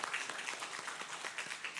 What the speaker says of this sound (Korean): 함께 박수로 환영해 주시기 바랍니다